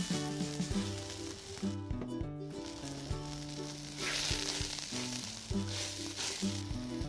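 Winter bamboo shoots cook in pickled cabbage soup with a continuous close sizzle and bubbling, while steady tonal music plays underneath.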